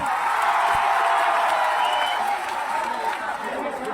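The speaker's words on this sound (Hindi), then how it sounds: "अपने लिए जोरदार ताली बजाइए बैठकर आप।" A large crowd at a public rally in Patna applauds and cheers, a loud, dense roar of clapping and voices that eases slightly toward the end.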